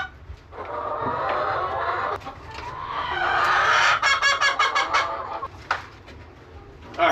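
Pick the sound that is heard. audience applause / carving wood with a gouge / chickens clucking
chickens clucking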